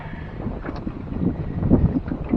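Wind buffets the microphone in a steady, rumbling gust, loud and close throughout.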